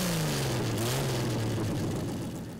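A Jeep stroker engine running on a dyno with open headers roars loudly and continuously, its pitch sliding down and then climbing again, with no voices.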